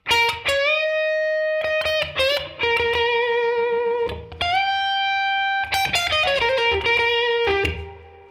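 Electric guitar phrases a classic blues lick over the one chord, with bent sustained notes separated by spaces of silence, played clean-to-slightly-driven and fairly loud, no voices.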